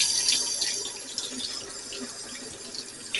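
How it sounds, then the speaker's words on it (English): Warm tap water runs steadily from a kitchen faucet while sourdough cinnamon roll dough is being prepared, a continuous close hiss and splash with no talking. "we need to get some warm water, and I just use tap water"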